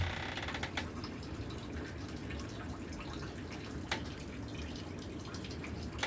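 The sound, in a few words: maple syrup starting to flow from the evaporator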